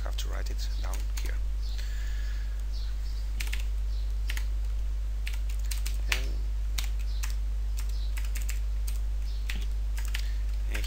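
Code being typed on a computer keyboard: quiet, irregular key clicks and taps in short bursts over a steady low hum, with soft talk in places.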